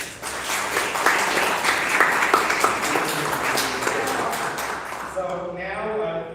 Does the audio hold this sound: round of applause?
yes